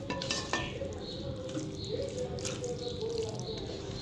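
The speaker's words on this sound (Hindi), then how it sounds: "इसके अंदर ऐड करने के बाद हम पहले इसे अच्छे से मिक्स कर लेंगे" Pumpkin curry with chopped coriander being stirred in a pan, soft scraping and clinking of a spoon with light wet sizzles, fairly quiet and continuous.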